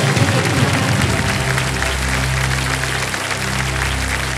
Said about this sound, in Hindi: तालियां बज जाएं इनके लिए।